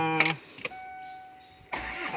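A Kia Carnival with a smoky, unserviced engine awaiting an oil change cranks briefly, then a steady tone holds before a louder burst as it catches, heard alone and close.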